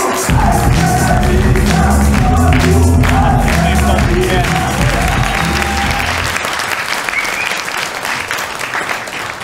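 Studio audience applause during a comedy game show, loud, dense clapping with some cheering that starts abruptly and continues steadily before tapering off slightly toward the end.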